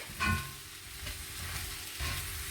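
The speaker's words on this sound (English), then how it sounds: "The onions and the mushrooms need to brown for about 5 to 6 minutes." Sliced onions and button mushrooms browning in a pan, giving a soft continuous sizzle with a couple of louder stirring scrapes near the start and end.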